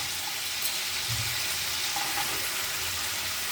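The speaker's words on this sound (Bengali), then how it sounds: "এবার আমি বিনস দিয়ে দিলাম।" Green beans and potatoes fry together in a pan for vegetable pulao, giving a steady, even hiss of sizzling oil at close range with no voices.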